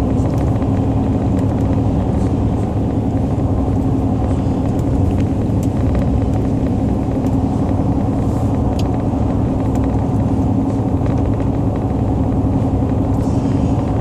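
A car cruises steadily along a road through Miami-Dade County at about 63 mph, giving a continuous loud engine and tyre rumble with faint wind hiss and no speech.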